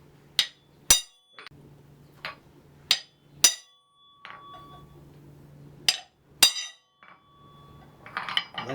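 A hammer strikes hot iron on an anvil while forging, giving sharp ringing clanks in an uneven rhythm of about ten blows, each leaving a short metallic ring, close and loud.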